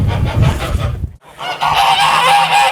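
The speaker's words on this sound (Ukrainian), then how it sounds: "де вони розводять гусей" Geese kept in a village yard honk loudly and repeatedly, with a brief lull before a denser burst of overlapping calls.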